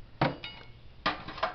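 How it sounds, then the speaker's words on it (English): A hammer strikes a valve spring in a 1953 Ford sedan's flathead V8, giving sharp metallic taps: one strong hit and a lighter one, then a pause and two more ringing blows. "we'll hammer the spring or the valve back"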